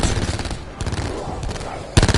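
Gunfire bursts from a shotgun in a PS4 video game, one loud blast near the end after scattered quieter shots, set against a busy, noisy game background.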